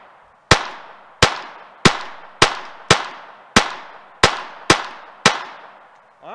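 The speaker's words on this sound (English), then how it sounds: "I ain't really aiming. I'm just shooting." Glock 44 pistol gunshots, nine loud, sharp reports fired at a steady pace about two-thirds of a second apart, each ringing out briefly before the next.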